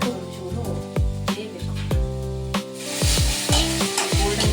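Food frying in a pan, an ongoing sizzle broken by repeated sharp scrapes and stirring knocks, fairly close and clear, with no voices.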